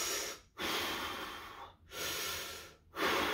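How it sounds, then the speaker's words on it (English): Heavy, rushed breathing from someone resting between workout sets at home, three long loud breaths in quick succession, each separated by a brief pause, close and with no talking. "Take those breaths, just..."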